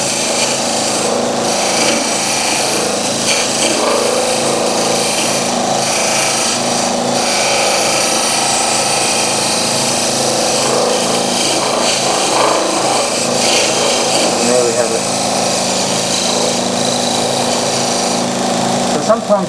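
A skew chisel held as a scraper against a spinning wooden lighthouse grinder gives a steady, close rasping whir that continues without a break for the whole stretch.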